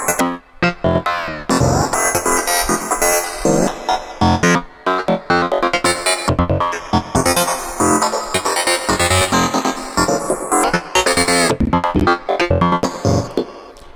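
A glitchy wavetable psytrance synth lead programmed in Ableton Live plays loud and alone, chopped into stuttering bursts with abrupt cuts and rapid pitch jumps over a driving, dense electronic texture.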